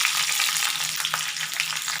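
Dried red chillies crackle in hot oil with mustard seeds while a Kerala sambar is prepared, a steady close sizzling hiss throughout with light popping and no voices.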